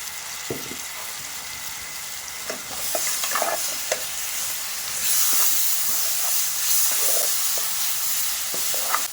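Onions frying with ginger garlic paste and turmeric for a chicken curry, a steady close sizzle with intermittent spoon scrapes and stirring knocks that swells louder partway through.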